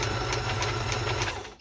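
A Kenmore 158.1400 sewing machine runs steadily, sewing a bi-directional stretch stitch with a fast, even mechanical whir and regular needle ticks, close and alone before it winds down at the end.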